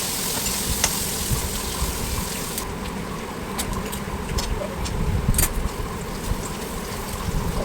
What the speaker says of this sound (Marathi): वरून कांदा घातला आणि कांद्याला देखील लालसर होईपर्यंत तळून घेतला